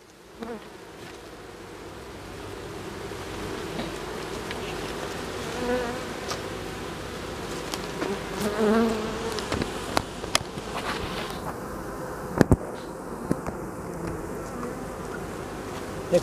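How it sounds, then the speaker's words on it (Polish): Honey bees of a dark strain swarm around an open hive in an apiary during an inspection, a steady, faint buzzing hum that rises and falls with a few soft knocks and clicks. "Jak Państwo widzicie, pszczół jest mnóstwo."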